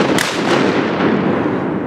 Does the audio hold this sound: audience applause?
no